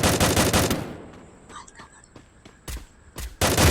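Rapid gunfire bursts from the mobile shooter game Free Fire, with a loud rattling volley at the start, short sharp shots in the middle and another burst at the end, mixed with faint game effects.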